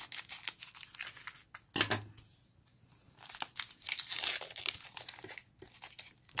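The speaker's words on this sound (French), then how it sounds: "on va s'ouvrir ces petits paquets tout de suite" Pokémon card packs are crinkled and torn open by hand, with snips from small scissors, as a series of close, soft, irregular crackling and ripping bursts separated by short quiet gaps, without talk.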